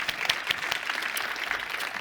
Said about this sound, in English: I want to give Will another round of applause